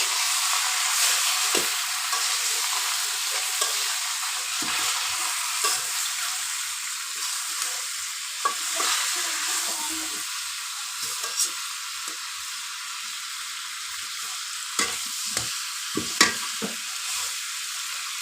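Fish heads coated in turmeric and salt fry in a pan with a steady, bright sizzle that carries on throughout, broken now and then by soft stirring clatters, close and without talk.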